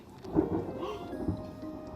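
A low rumble of thunder rolls through, with a faint patter of rain underneath, sustained and moderately loud for a couple of seconds.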